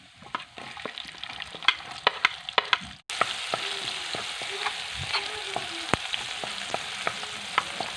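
Chopped garlic and onion fry in a pan, with a faint crackle and light clinks of a stirring spoon that turn into a louder, steady sizzle once the onion goes in.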